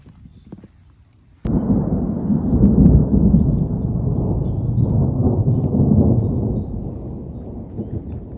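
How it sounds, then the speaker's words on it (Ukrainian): Thunder during a rain and hail storm in a forest, a sudden loud crack followed by a long, heavy rumble that rolls on for several seconds and slowly fades, with no speech. "Ось десь так гримить."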